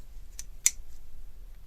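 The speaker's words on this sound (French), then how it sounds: "Donc on a une petite paire de ciseaux planqués" Two quick metallic snips from the small scissors of a Xiaomi multitool opening and closing, crisp and close, with a quiet background.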